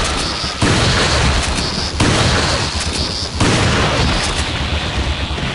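Gunfire in Resident Evil 4 booms out in loud, dense bursts that start abruptly every second or so and blend into a continuous roar of shots and blasts.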